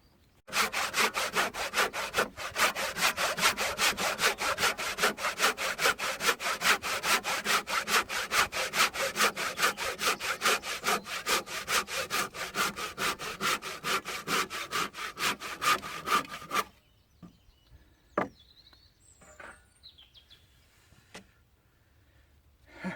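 Handsaw cutting through chunky square timber while building a cabin workbench, a long run of fast, steady back-and-forth strokes that ends abruptly, followed by a few quiet knocks and clatters.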